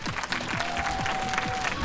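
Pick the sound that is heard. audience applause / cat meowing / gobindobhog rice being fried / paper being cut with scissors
audience applause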